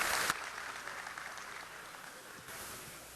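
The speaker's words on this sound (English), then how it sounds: "Why don't we give a round of applause for the prayer here?" Audience clapping at an alumni banquet after a prayer, a dense burst of applause that drops off quickly and then swells faintly again near the end.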